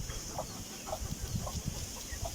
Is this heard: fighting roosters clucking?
yes